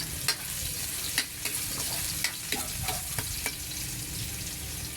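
Ginger sautéing in a pan as the first step in cooking tausi, a loud continuous sizzle broken by regular clicks and scrapes of a stirring utensil, close up with no talking.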